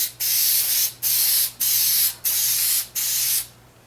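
Spray adhesive hissing from an aerosol can onto a custom car seat cover in a Saturn Sky, five steady close bursts of about half a second each separated by brief pauses, with no talk.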